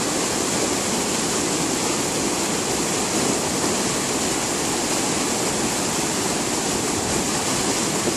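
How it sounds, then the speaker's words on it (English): Fast-flowing Michigan river current near a waterfall gives a loud, constant broadband rush of water that stays even and unbroken throughout. "That current is really moving."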